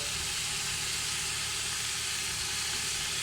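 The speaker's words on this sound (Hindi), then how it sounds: "अब इसके अंदर हम हरी मिर्चें दरमियान से कटी हुई वो डाल रहे हैं" Halved green chillies go into fried masala in a pan for pakora kadhi, giving a steady, close hiss of frying that holds evenly without pause.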